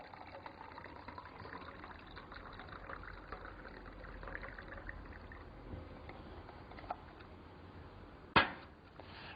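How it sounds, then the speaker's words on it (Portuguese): Hot water pours from a thermos into a cup, a faint steady trickle throughout with a brief sharp clink near the end. "Colocamos então a água quente em um dos copos."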